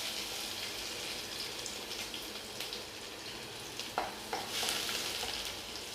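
Chopped garlic sizzles in hot oil in a kadai, a steady crackling fry with occasional sharp pops and stirring scrapes, close and moderately quiet.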